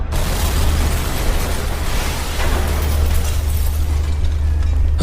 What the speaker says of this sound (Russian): А через секунду раздался оглушительный взрыв.